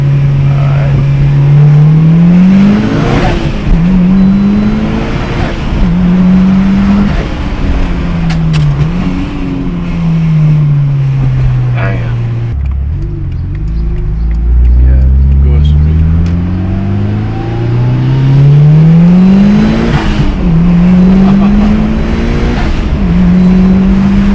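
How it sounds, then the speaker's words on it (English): A Mitsubishi Evo 6 revs up hard through several quick gear changes, its engine note rising, dropping at each shift and climbing again, loud and close throughout with a brief lull midway. "Changing gear pretty fast"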